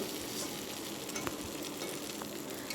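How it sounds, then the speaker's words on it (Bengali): Fish shallow-frying in oil in a pan over a lowered gas flame while it is turned and stirred, giving a steady, close, continuous sizzle and crackle with no talking. "এখন তো মাছ এখানে এই যে লাল করে ভাজছি"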